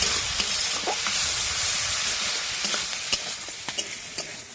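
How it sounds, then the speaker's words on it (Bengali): Coriander powder and chopped tomato stir-fried in a pan, a steady close sizzle with scraping strokes of a spoon and soft clicks against the metal, no voices. "এবার একসঙ্গে আমি ভালো করে এগুলো একটু কষে নেবো।"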